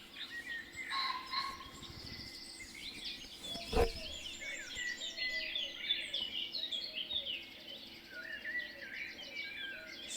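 Small birds chirp and twitter continuously in the background of an indoor live stream, fairly faint, with a brief thump partway through.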